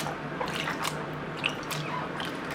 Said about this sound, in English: I'm going to just gently move the yarn around to make sure that the dye and acid moves freely around each strand of yarn